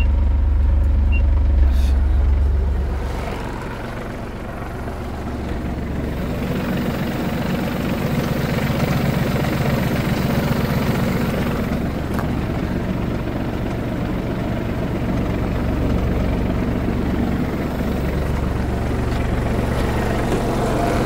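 Kubota KL345 tractor running with power take-off engaged in third gear, a steady low diesel drone with rumbling mechanical texture, close and continuous throughout, easing slightly after the first few seconds.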